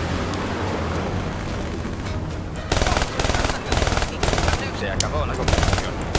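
Game gunfire from Call of Duty Black Ops 3 in a busy story-mode battle: a dense continuous roar of fighting gives way to loud, evenly spaced rapid bursts of automatic fire, with someone speaking briefly over it.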